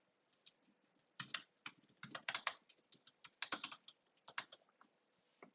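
Commit message typed on a computer keyboard, close and clear: bursts of quick key clicks with short pauses between words, no talking.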